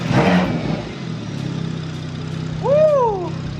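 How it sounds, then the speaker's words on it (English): A car with a big turbo newly installed on a 340 engine, heard idling low and then given a quick rev toward about 2,000 rpm, with the turbo spool rising and falling in a short whistle close by. "Give it a little rev to like 2K."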